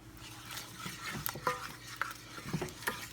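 A spoon folds egg yolk into a rich cream pasta sauce in a pan over the heat, giving soft stirring scrapes and a few light clinks over a low, steady background.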